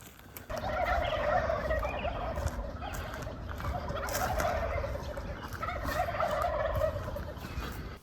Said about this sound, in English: We were really glad to hear and then see lots of turkeys roosted up in the trees